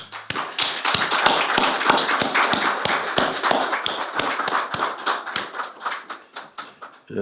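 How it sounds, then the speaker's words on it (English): Clapping at a Seonghwa ceremony comes as sharp, separate claps near and fairly loud in a steady rhythm, more like a few people than a large crowd. "I'd like to give a round of applause for all those who can share their heart and love and testimony about Stuart and Regina."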